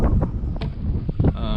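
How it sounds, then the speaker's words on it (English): Strong wind buffets the microphone during crappie fishing from a boat by partly sheltered timber, a steady low rumble with gusty thumps and a person talking over it. "y'all can see the wind is just ridiculous"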